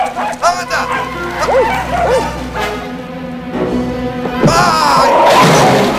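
Small dogs bark and yip repeatedly at close range, loud and persistent, with a crashing clatter near the end and a voice speaking amid the commotion.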